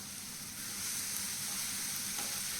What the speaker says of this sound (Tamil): நல்லா அதை கொஞ்சம் வதக்கி எடுத்துக்கலாம்